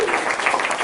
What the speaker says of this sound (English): So we can give him a round of applause